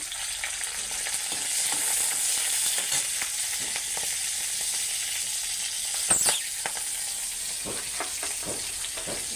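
Green chilies hit hot oil with a steady, close sizzle and frying crackle, broken by a few sharper pops and spatters, with a brief louder burst near the middle as the pan is disturbed.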